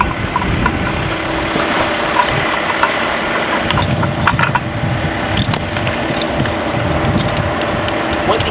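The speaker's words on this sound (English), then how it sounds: "He will spin off all three of the caps on the hydrant." A hydrant wrench ratchets and spins the caps off a fire hydrant outdoors, a continuous loud metallic clicking and grinding with rattling bursts throughout.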